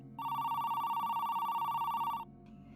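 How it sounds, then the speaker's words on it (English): A telephone rings at about 2 a.m. in an all-night shop. It is a single steady electronic trill lasting around two seconds, close and clear, then cuts off into quiet room tone. "Around 2 a.m., the phone rang"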